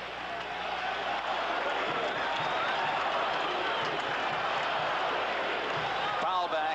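Baseball stadium crowd in the 3rd inning of a 1978 game, a steady loud roar of cheering and crowd noise filling the whole stretch without letting up.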